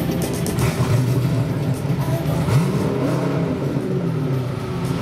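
A Hennessy Venom F5 Roadster supercar in a supercar parade at Salon Prive 2022, its engine revving with rising and falling tones over a continuous loud rumble, heard close amid outdoor crowd ambience.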